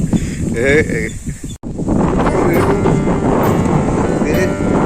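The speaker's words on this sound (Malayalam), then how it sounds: "ഭയങ്കര കാറ്റാട്ടോ, അത് കറുത്ത കാറ്റ്." Strong wind buffets the microphone in a dense, roaring rush, briefly cut off, after a voice speaks at the start; outdoors in Cheruthuruthi.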